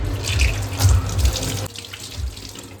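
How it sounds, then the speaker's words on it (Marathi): Ridge gourds are rinsed under a running kitchen tap, water gushing and splashing loudly into a sink, then the flow drops to a softer trickle partway through. "इथे दोडके स्वच्छ पाण्याने धुवून घेतलेले आहेत।"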